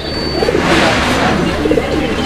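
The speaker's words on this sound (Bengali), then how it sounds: "নরের ডাকটা একটু দেখলে দর্শক ভালো লাগবে" Male fancy pigeon cooing in short repeated rumbling phrases, close and clear over a steady low background hum, with no talk.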